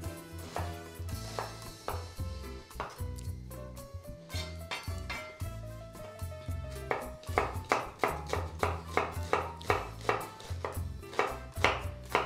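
Onion slices are finely chopped with a knife on a cutting board in a home kitchen, a steady run of close, crisp knife taps that speeds into a quick regular rhythm over faint background music.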